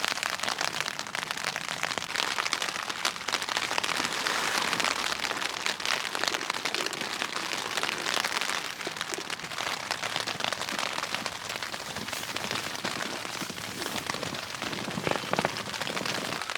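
Heavy rain pounds steadily on a cabin roof at a campsite at night, a dense, unbroken roar of close drumming drops that holds at full strength throughout, with no voices.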